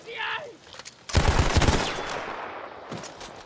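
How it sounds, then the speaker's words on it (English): Gunfire in the Battlefield 1 video game: a short burst of rapid shots cracks out loudly and is followed by a lingering, fading echo, with a faint tone heard just before. "we have a little friend shooting at us over here"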